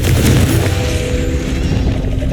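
A Confringo spell blast in Hogwarts Legacy, a loud booming burst right at the start that rolls into a dense rumbling tail of debris and noise.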